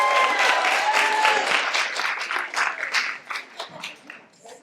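A crowd at an evening performance event claps loudly and continuously, and the applause gradually thins into scattered individual claps before fading out.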